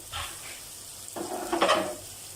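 Brinjal slices fry in a pan over low heat, a gentle close sizzle with a few scraping and clattering touches of a utensil as the slices are handled.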